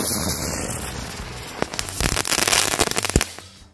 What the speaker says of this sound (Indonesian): selanjutnya kita coba mercon bunga teratai. Ini bisa berputar-putar seperti gangsing